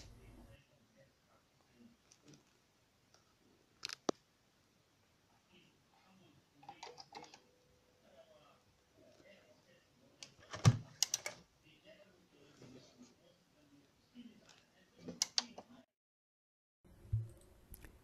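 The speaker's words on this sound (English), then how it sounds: "That's the relay you are hearing clicking twice." Relay inside an Onkyo HT-R397 AV receiver under repair clicking twice, two sharp isolated clicks among faint workbench handling noises and quiet talk.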